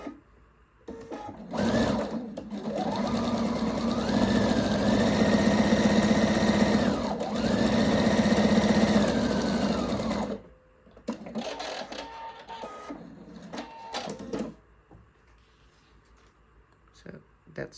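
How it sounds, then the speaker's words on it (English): Sewing machine stitching the side seams of mesh shorts with a quarter-inch seam allowance, two bursts of rapid mechanical whirring that rise and hold at speed, close and clear, followed by quieter handling noises and brief stitching. "First I'm going to sew the side seams of the outside of the shorts"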